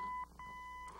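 Short electronic beeps, about four, come from a 1972 Nissan Skyline AM radio as its tone control is rotated to the left. The steady tones are broken by brief gaps, quiet and close, with no voices.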